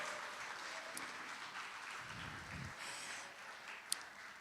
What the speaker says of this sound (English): Let's please applaud that.